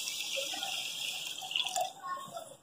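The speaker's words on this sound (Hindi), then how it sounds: "इसके अंदर शामिल करेंगे थोड़ा सा पानी" Water trickling and splashing into a pot holding sugar for apple murabba, a steady close pour with small drips and bubbling bursts.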